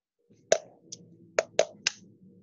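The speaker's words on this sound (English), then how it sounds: "What are you hitting on the side of your cup there? My calculator." A calculator tapped against the side of a cup produces a handful of sharp, separate clicks in an irregular rhythm, close and fairly quiet against a near-silent background.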